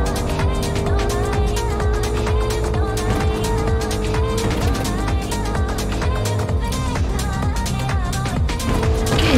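A car driving in the Fortnite video game, its engine droning steadily throughout with a busy layer of in-game effects and tire noise, loud and close, while a voice talks over it.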